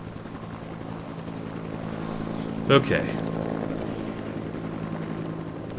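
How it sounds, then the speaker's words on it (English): A helicopter flies overhead in the zombie survival game Project Zomboid as a steady rotor drone, with a brief louder swell in the middle and a person speaking briefly. "The helicopter is freaking me out."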